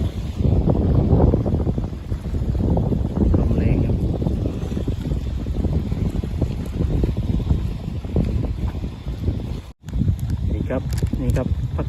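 Strong wind roars across the microphone on a fishing boat at sea during squid fishing, a loud steady rumble with gusts throughout and a brief dropout near the end, with someone talking over it.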